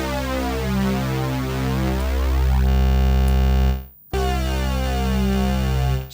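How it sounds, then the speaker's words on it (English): A sustained note from the Cherry Audio Elka-X synthesizer with a buzzy, thick tone whose beating and phasing change as the unison detune shifts, briefly cut off before resuming. "So let's hear exactly what this unison detune is doing to the sound."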